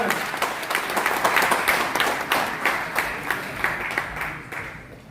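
Steady applause from an audience at a university event, a dense wash of clapping hands that rises with some sharper individual claps, then slowly thins out toward the end.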